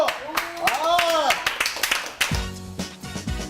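A few people clap briskly in a restaurant as a new menu item arrives, sharp close claps mixed with lively voices and talk.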